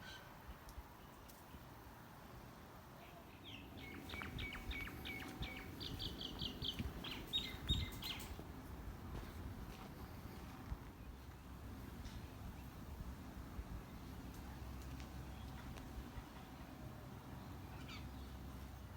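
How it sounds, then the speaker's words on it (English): Several birds call and chirp in backyard trees, with short bursts of high tweets clustered in the middle stretch over a steady outdoor background hum, fairly faint and moderately distant. "pay close attention to the birds that live in these trees"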